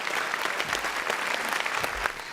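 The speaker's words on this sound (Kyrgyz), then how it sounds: "Мистер Икс, сизди кол чабуулардын алдында сахнага чакырабыз." A studio audience at a televised intellectual quiz show claps steadily in welcome as a guest is called to the stage: dense, even applause filling the room throughout.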